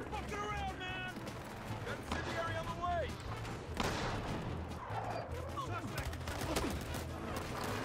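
Gunfire in the video game Battlefield Hardline: dense, repeated shots crackle through busy in-game noise while a player talks excitedly over the action.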